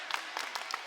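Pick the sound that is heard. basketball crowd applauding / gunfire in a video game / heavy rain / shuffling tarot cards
basketball crowd applauding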